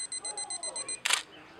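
A Nikon D300 on self-timer counts down with a run of evenly spaced high beeps, then the shutter fires in one sharp, close mechanical snap.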